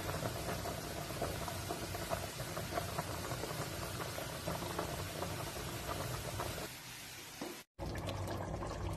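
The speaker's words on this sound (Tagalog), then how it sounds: "Pakuluan ito guys, hanggang kumunti na lang." A pot of chicken in cola boils hard with a steady, dense bubbling and hiss, continuous for several seconds before a brief dropout near the end.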